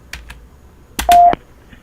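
A telephone line on a recorded 911 emergency call from a Chicago hotel gives a couple of faint clicks, then a short, steady ring tone over a burst of line noise. No one speaks.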